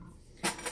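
A kitchen knife meant for cutting meat and bacon is picked up and handled, giving a short, close metallic clink and rattle after a quiet moment.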